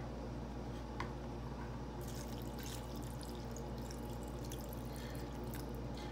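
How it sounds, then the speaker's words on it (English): Water poured into an instant ramen noodle cup, a faint steady trickle with soft splashing that grows busier partway through, over low background hum. "Then I'm going to add water to the line."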